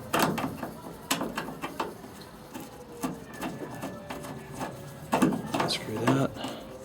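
A screw is undone at the tip of the quarter window trim on a 1970 Mustang Mach 1, giving close, irregular clicks and small metallic ticks with quiet gaps between bursts.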